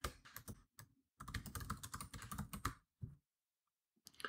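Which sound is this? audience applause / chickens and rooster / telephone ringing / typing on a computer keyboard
typing on a computer keyboard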